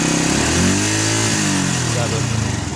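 A Yamaha YZF 125 motorcycle engine revs up close, its pitch rising and falling in a quick swell before settling back toward idle, loud and alone.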